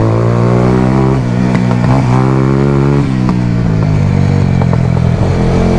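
Motorcycle ridden fast through curvy hills near Toms River, St. Andrew, the engine droning loud and close with pitch rising and falling through the bends, no talking.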